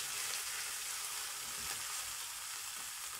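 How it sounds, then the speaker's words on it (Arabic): Onions frying in a pan with salt as they are stirred, a steady close hiss and sizzle with a faint scrape of the spoon partway through, no talking. "ونقلب كويس"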